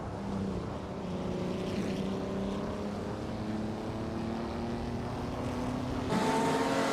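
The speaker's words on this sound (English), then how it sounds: "the race is underway at the Ottawa GP track" Race start at the Ottawa GP track in a racing game, including a 1955 Maserati 300S: several engines drone and rev together in steady tonal whines, with a sharp rise in pitch and loudness near the end.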